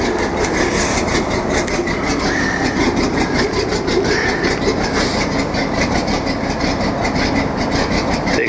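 A cold, fuel-injected boat engine runs during winterizing with a loud, steady, rumbling drone and a fast rhythmic pulse. It stays close and unbroken throughout, with no talking.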